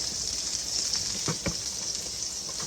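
Salmon sizzling in a hot frying pan, a steady close hiss with a few soft pops, no talking.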